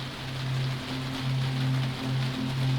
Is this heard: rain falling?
yes